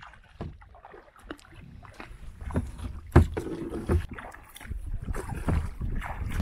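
Oars dip and pull through lake water from a small rowboat, with repeated splashes and gurgles at a steady stroke rhythm and light wind noise on the microphone, close and fairly quiet.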